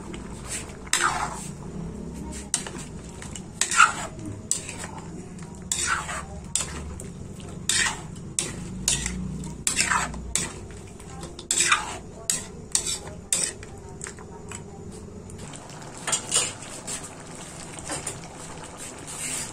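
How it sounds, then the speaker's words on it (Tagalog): Carrots and potatoes added to a pot of simmering pork caldereta, with a series of uneven clunks, scrapes and stirring knocks from a spoon against the pot over a low background murmur. "ilagay na lang po natin yung gulay. Gulay na Ayan, uh, carrot saka patatas."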